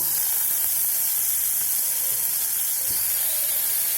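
Tomatoes going into a pan of sautéing onions, heard as a steady close hiss and sizzle of frying that holds evenly throughout, with a faint clink or two.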